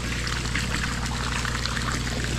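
Water drains from a fish tank in a continuous close splashing trickle that holds steady throughout, with no voices.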